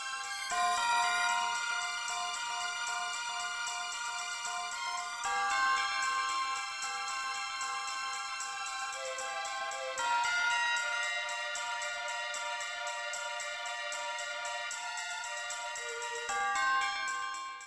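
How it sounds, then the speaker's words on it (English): A bright, sustained bell motif rings throughout stage music from the Nintendo 64 game Kirby 64: The Crystal Shards, with repeating tonal phrases renewed every few seconds and no talking. "mostly making use of this bell that's a constant throughout the song"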